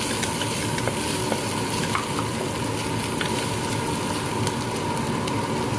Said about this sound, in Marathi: कांदा छान असा लसणामध्ये आदरकामध्ये मस्तपैकी परतून घ्यायचा आहे